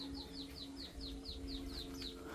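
Two pet white-eye birds chirp in a quick, steady series of about ten high, thin notes, faint against a constant low hum.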